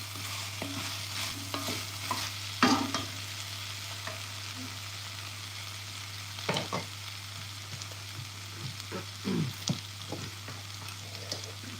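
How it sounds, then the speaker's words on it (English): Food sautéing in a pan for butternut squash soup, with intermittent stirring scrapes and clatters over a low steady sizzle, close and fairly quiet. "So we're sauteing this so you can have the flavor."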